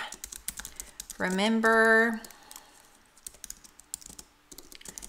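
Quick, light clicks of typing on a computer keyboard, close and steady, interrupted by a brief tonal sound and mixed with a voice speaking.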